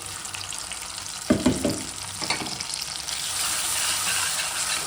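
Ground masala dropped into hot oil for obbattu saaru, a South Indian sambar, with a couple of sharp sizzling bursts as it hits the pan, then a steady frying hiss.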